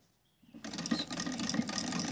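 A sewing machine starts up after a brief near-silence and runs steadily, stitching elastic onto a fabric divider with a fast, even mechanical whir close up and no talking.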